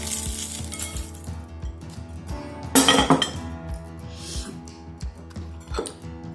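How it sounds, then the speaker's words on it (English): Homemade nippattu crackers crushed by hand into atho, the Burmese street food of North Chennai: light clinks of utensils throughout, with one short, loud crunchy burst near the middle and no voices. "I'm using homemade nippattu here. We'll crush them and add to this."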